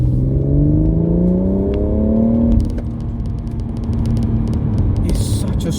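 A BMW M140i with the B58 engine accelerates hard, its engine note rising steadily in pitch and loud from inside the car, then easing off into a lower rumble with clicks.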